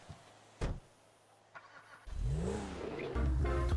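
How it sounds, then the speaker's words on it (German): In Grand Theft Auto V, the player's car door thumps, then the engine cranks and catches. It settles into a loud, steady idle with a brief rise near the end. The sounds are close and there is no talking. "So, das ist schon Mikey seine Karre"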